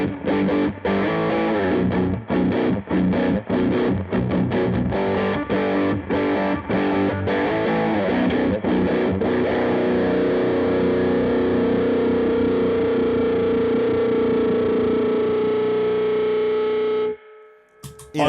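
Squier baritone guitar with high-gain distortion, heavily drop-tuned, with fast chugging riffs that give way to a long sustained note swelling into feedback before cutting off, loud and continuous with no talking.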